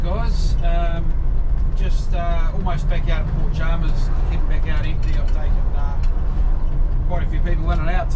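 Volvo B12 double-decker bus with 79 seats running empty near Port Chalmers, its steady engine drone and road rumble loud and continuous beneath someone talking throughout.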